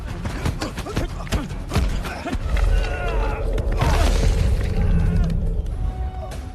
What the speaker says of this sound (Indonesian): Namun, tiba-tiba ledakan pun terjadi dan Kang Iko tak sadarkan diri.